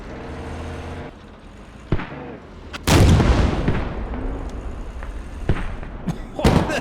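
A Squad MGS armored vehicle fires its main gun at a T90 tank, a loud heavy cannon blast with rumbling echo following a faint earlier thump, plus smaller impact pops and distant gunfire in a battle soundscape.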